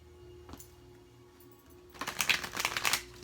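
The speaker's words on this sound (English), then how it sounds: "Let me just shuffle these cards." Tarot cards being shuffled by hand: a brief riffle, then a sustained run of rapid, crisp papery flutters growing louder toward the end, close and alone without talking.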